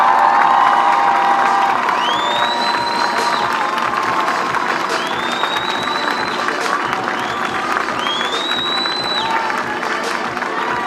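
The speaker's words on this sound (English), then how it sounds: "Please give a round of applause right now to Congresswoman Ayanna Pressley." Large outdoor crowd at a public unveiling ceremony applauding and cheering steadily, with whoops and shouts rising above dense clapping, loud and sustained throughout.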